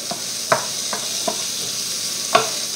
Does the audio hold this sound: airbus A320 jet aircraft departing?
no